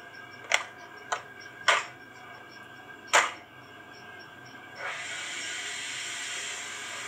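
A PIKO 141 TA SNCF digital sound model steam locomotive gives four short sharp chuffs or hisses, then a steady soft steam hiss that continues to the end, quiet and close.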